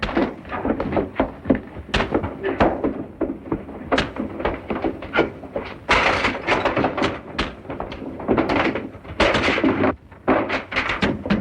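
Repeated pounding and banging on a locked door in a 1936 crime drama, a dense, loud barrage of heavy thuds and knocks continuing for about eleven seconds without pause, no one speaking.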